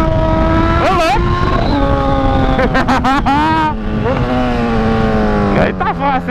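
Engine of a Honda CB1000 motorcycle revving hard during a wheelie, loud and near, the pitch repeatedly climbing and dropping as the throttle is worked, with a voice briefly heard over it.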